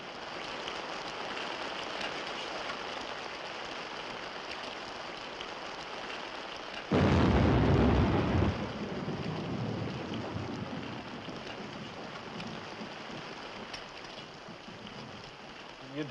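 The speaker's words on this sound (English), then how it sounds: "It's raining outside." Rain pours steadily outside, a dense hiss, with a sudden loud rumble of thunder bursting in midway and rolling off over several seconds before the downpour continues alone.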